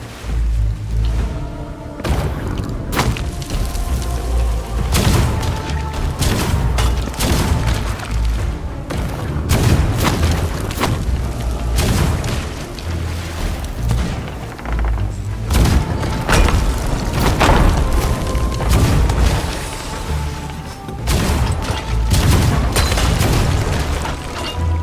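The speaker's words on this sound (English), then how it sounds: "It does make it easier to fire cannons." Ship cannons fire again and again in the pirate video game Sea of Thieves, heavy booms and thuds tumbling over one another in a dense, loud barrage that barely lets up across the whole stretch.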